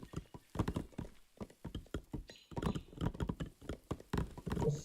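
Horse hooves clip-clopping in the real-time strategy game 0 A.D. during a multiplayer match, a run of quick, sharp knocks in loose rhythm, moderately close and clear, with no talk over them.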